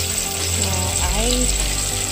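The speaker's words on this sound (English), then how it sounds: "put directly that banana into the cooking pan" Banana frying in a cooking pan with no sugar or flour added, giving a steady close sizzle and crackle throughout, with a faint low hum underneath and no talking.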